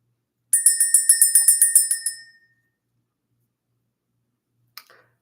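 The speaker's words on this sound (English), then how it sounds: "Let's ring the bell." A small bell struck in a rapid series of about a dozen bright, ringing strikes over under two seconds to clear energy, then fading out, followed by a faint brief clatter after a long silence.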